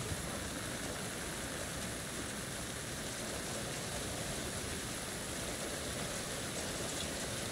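Steady rain in the Alan Wake 2 video game around the town of Bright Falls, a dense, even hiss of falling water that holds at a constant moderate level throughout.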